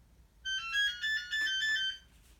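A telephone ringtone chirps in a clear electronic melody of repeated tonal bursts for about a second and a half, fairly loud and alone in a quiet room, then stops.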